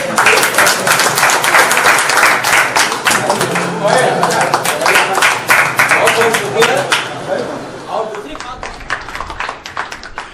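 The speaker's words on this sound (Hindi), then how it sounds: "जल्दी से जोरदार तालियां बजा देंगे उनके" An audience at a mushaira gives loud, vigorous applause, a dense roar of clapping with some voices that gradually thins into scattered claps toward the end.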